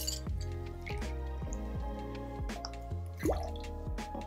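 Fresh lemon juice is poured into a rye whiskey cocktail, heard as a quick run of wet drips and plops with light glass clinks, close and quiet.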